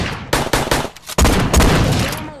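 Gunfire in the Animals VS Zombies video game: a few short bursts of shots, then a sustained loud, dense volley that tails off slightly toward the end.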